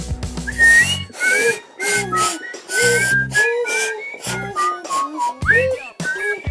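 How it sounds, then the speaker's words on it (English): Several people whistle a bouncy melody together in loud, clear phrases over a rhythmic backing beat. "Everybody whistle."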